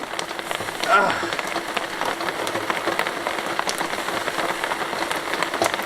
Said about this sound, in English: We're proper rained off now. Horrible weather.